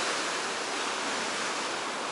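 Winter sea surf at a snowy Baltic seaside resort roars as a steady, dense wash of breaking waves, loud and continuous, with no voices.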